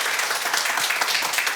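A seminar audience claps steadily to welcome Professor Kwon before a Christian apologetics lecture, a dense, even patter of many hands with no voices over it.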